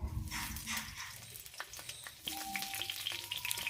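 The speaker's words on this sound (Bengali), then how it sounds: "এখন আমি ফুলকপিগুলো ভেজে নেব" Cauliflower florets frying in a spoonful of mustard oil in a kadai, a steady crackling sizzle that rises in intensity partway through, with occasional utensil clinks nearby.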